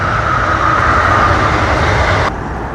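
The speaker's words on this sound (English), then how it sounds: "I paused the video for a train going by" A train rumbles past nearby, a loud continuous roar of rail noise that fills the space before easing slightly near the end.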